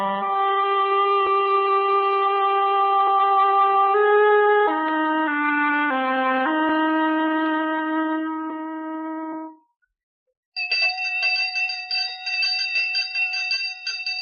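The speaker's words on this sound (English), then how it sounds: "That's the sound of the village school bell" A loud village school bell rings steadily with sustained, shimmering tones that shift pitch, falls silent for a moment, then rings again in a rapid clanging burst.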